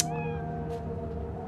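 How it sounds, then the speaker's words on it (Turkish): A cat meows once in a long, clear, wavering cry in the video game Cyberpunk 2077, close and loud, standing alone without talk. "Arkadan da kedim yavluyor"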